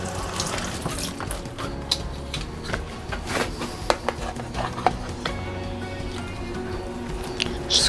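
Tap water runs onto a rice press while spam musubi is assembled, a steady splashing wash broken by sharp clicks and knocks of the mold close by.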